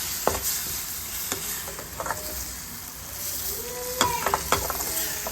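Squid sautéing in a pan with coriander powder, chilli powder and turmeric, a soft steady sizzle under scattered scraping stirs and utensil clicks, close and moderately loud, no talk.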